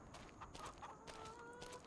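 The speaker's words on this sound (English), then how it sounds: "So we've got chickens" Chickens in the Farming Simulator 25 video game cluck softly and intermittently in a quiet farm pen, a few faint calls over low background ambience.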